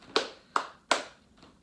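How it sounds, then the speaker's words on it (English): Children in a kids' yoga class clap their hands three times, each clap sharp and close, followed by a fainter fourth clap in a quiet room. "Can you clap your hands?"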